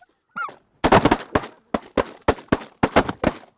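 Series of loud, close shotgun blasts while hunting Canada geese in Alberta, about eight sharp reports in quick irregular succession, preceded by a brief goose honk.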